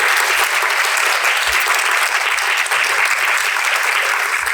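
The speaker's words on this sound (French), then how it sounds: "On peut sans doute les applaudir en effet pour leur intervention." Dense, steady applause from a conference audience following presentations, loud and continuous throughout with no voices standing out.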